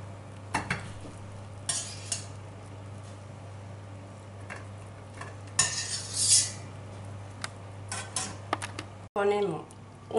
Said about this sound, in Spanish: Y para ahora ponerla en la bandeja del horno.